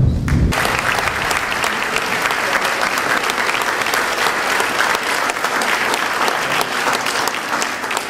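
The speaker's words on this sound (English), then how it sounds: "Please help me to applaud their efforts" Loud, sustained applause from the audience at an award ceremony for youth programmes, a dense, steady wash of many hands clapping at close range for the full eight seconds, with no talking above it.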